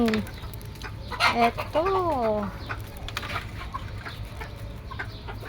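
Egg-laying hens in a villa compound cluck and squawk nearby in repeated bursts, with a rising, warbling call partway through, while a person talks over them.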